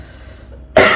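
One sudden loud, harsh cough bursts out close to the microphone after a stretch of near silence and runs to the end.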